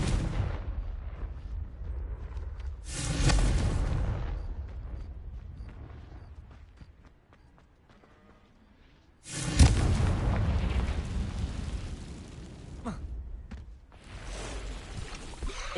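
Confringo fire spells blast in Hogwarts Legacy, two loud, crackling explosive bursts separated by a quieter stretch, followed by a few more sharp pops and a rumbling tail.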